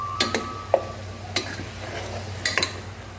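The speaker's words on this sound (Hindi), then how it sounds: "बहुत अच्छा फ्राई हो रहा है" Beef paya frying in a pressure cooker, stirred with a spoon: a low steady sizzle under a handful of sharp metallic scrapes and clinks against the pot, close and moderately loud, no speech.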